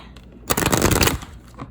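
Tarot cards shuffled by hand, one loud close riffle lasting about half a second, with quieter handling of the deck before and after and no talk.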